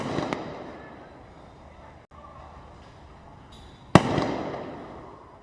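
Sniper rifle shots fired at targets during a SWAT team competition: one sharp, loud crack near the start and another strong report near the end, with a distant hollow outdoor ambience between them.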